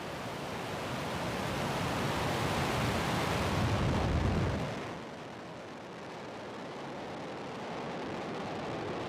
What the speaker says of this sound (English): Ignition. Liftoff of the Falcon 9.